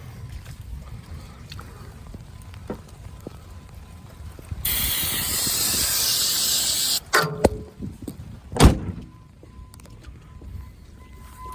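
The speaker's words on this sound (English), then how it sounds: "I'll try shutting the truck off, spraying it with ether again" Ether sprayed into a truck: a loud, steady hiss lasting about two seconds, followed by a few sharp clanks and knocks against quiet background noise.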